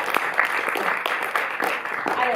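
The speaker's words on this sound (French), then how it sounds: "nous est présentée par Jean-Baptiste Thoré, que l'on peut applaudir tout de suite." Cinema audience applauding at a screening event in a Paris theatre, a steady dense clapping that fills the short clip with no pauses and a fairly loud, close wash of hands.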